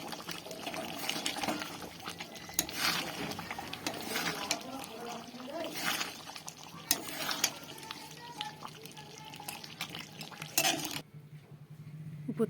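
Chicken chaap being stirred in a pan, with steady scraping and clinking of a spoon against metal over a soft sizzle, continuous and close throughout.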